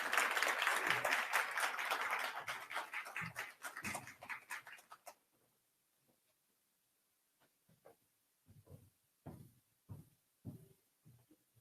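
Audience clapping at an International Women's Week event on Black women's health: a loud burst of applause that fades over about five seconds, followed by a few scattered claps and quiet gaps.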